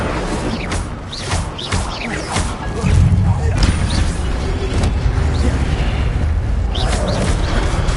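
The Incendio fire spell cast in the Hogwarts Legacy video game: loud booming crashes and whooshing blasts over a dense, continuous game soundscape, with voices talking over it.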